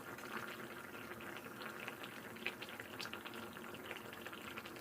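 Fish curry bubbling as it boils in a pot: a steady, dense simmering hiss with soft popping bubbles, close and continuous, with no voices.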